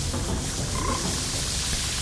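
A frog croaks in the Zelda: Majora's Mask video game, a soft call set in a dense, steady wash of game sound that runs through the whole two seconds.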